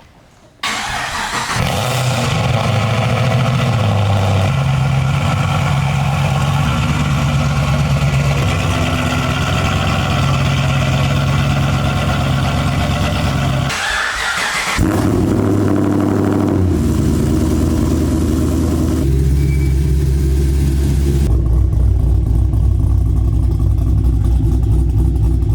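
A Chevrolet Camaro with an aftermarket exhaust starts and idles with a deep steady rumble, then blips the throttle in several revs rising and falling, loud and close with no talking.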